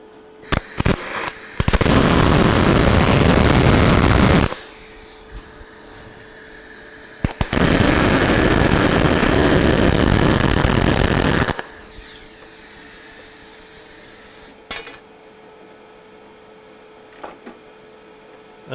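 A gas-shielded welder lays beads on a truck front in two long, loud crackling bursts of about three and four seconds, with clicks and quiet gaps between and after them.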